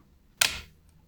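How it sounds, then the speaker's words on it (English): A single crisp click from the leaf shutter of a Zeiss Nettar 515-2 folding camera with squashed bellows, very close and alone in a quiet room, with a short metallic decay. "I'll go ahead and fire the shutter and you can hear what it sounds like."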